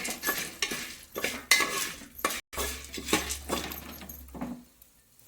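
Corn kernels with salt and turmeric are stirred in a pan for popcorn, making repeated rhythmic scraping and rattling strokes of a utensil against metal, close and fairly loud, with a brief pause midway and a quieter ending.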